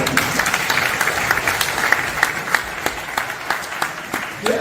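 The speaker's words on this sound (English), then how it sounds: "Give a round of applause." Audience applause at a public lecture on environment and climate entrepreneurship, a moderate crowd of hands clapping with audible individual claps, steady and fairly close, fading slightly near the end.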